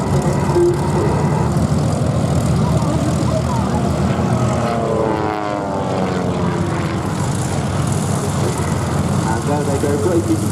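Pitts S-1D aerobatic biplanes fly a head-on pull-up at the Duxford airshow in the UK, their propeller engines making a loud, continuous buzzing drone that swells and shifts in pitch as they pass.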